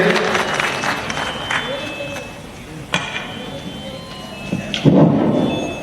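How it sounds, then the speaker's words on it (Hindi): Audience at a backward-class community conference in Patna clapping to welcome a guest speaker, a dense crackling wave of applause that swells, fades, then rises again, with someone speaking over parts of it. "जोरदार ताली से पिंटू जी का हम स्वागत करते हैं"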